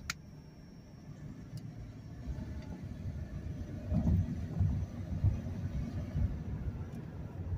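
A 2008 BMW 328xi with a misfire pulls away from a standstill, its low engine rumble building steadily while faint irregular stumbles and ticks surface partway through.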